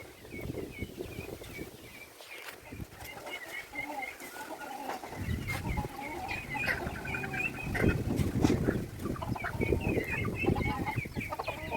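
Several chickens let out of their coop on a village farm cluck and chatter close by in a lively, overlapping flock, with a person talking over them in Tamil.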